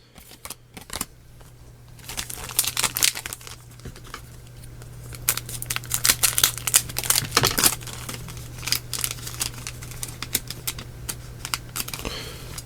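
Ultra Force trading card double packs being cut open and handled: a run of sharp snips, crinkling wrappers and light tapping, close and busy over a steady background hum, with no talking.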